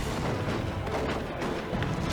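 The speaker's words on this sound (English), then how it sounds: "He's got the plasma gun here, which will hurt, and he's got the las cannon." Plasma gun and lascannon fire in Dawn of War 2 form a dense, continuous rumbling barrage of booming shots and blasts that stays loud throughout, with no pauses.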